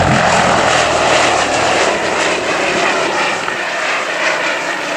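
Vintage aircraft making a very low, fast pass at the Old Warden air show, a loud, continuous propeller-engine roar that fills the whole stretch.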